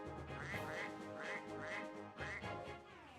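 Duck quacks from a Suikoden 2 video game sound effect repeat in a quick series of nasal calls, several in a row with short gaps, loud and close over a busy background of game music.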